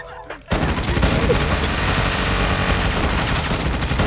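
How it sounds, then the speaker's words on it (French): Continuous rapid gunfire in a video game fills the clip after a short quiet start, loud and dense like sustained automatic fire with no pause, and a few muffled voices appear briefly before it. "On s'est pris des tirs."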